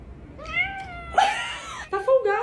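A talkative cat gives several drawn-out, rising and falling meows close by, with one louder, strained yowl in the middle, over faint background.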